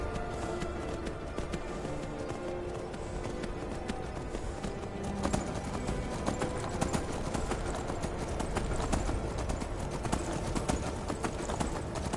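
A horse's hooves clip-clop steadily and rapidly in the Skyrim VR game, a continuous close rhythm of hoof strikes over an outdoor snowy-region soundscape.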